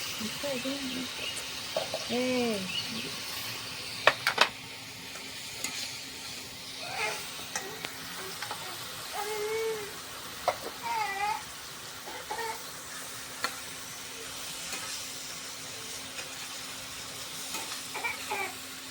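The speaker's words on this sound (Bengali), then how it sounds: "আলু ভাজা হয়ে গেছে।" Potatoes fry in a pan of oil for a Bengali katla fish kalia, giving a soft continuous sizzle with occasional utensil scrapes and clinks, while a voice talks intermittently nearby.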